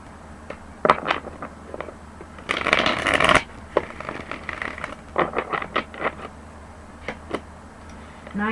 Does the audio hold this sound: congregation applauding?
no